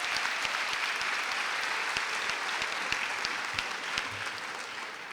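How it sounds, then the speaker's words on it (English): Steady applause from a university convocation audience honoring a speaker and a choir, sustained dense clapping at moderate level throughout with no break. "Let's give Dr. Mallory and the choir another round of applause."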